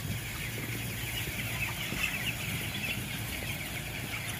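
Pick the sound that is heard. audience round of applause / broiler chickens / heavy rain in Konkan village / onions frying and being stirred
broiler chickens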